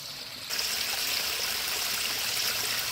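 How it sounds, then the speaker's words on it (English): Backyard LED-lit waterfalls spilling over serpentine boulders and black Mexican pebbles, a steady close rushing trickle that swells slightly louder after the first half second and continues evenly with no talk. "You can enjoy these LED lit waterfalls at night."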